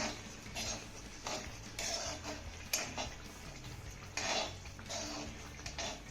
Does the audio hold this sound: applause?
no